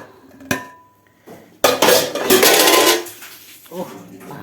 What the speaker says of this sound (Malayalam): ഓ, പാത്രം ചാടുന്നതിൻ്റെ ഒച്ചയോ.